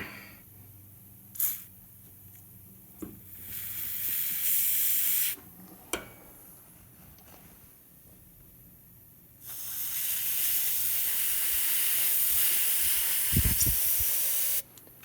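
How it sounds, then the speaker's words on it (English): Pressurized oil hisses and sprays from the oil port of a 2021 YCF SM F155 motorcycle engine with an oil leak, in steady bursts and a long continuous spray, with a few clicks between. "it's coming right out of the oil porthole under pressure"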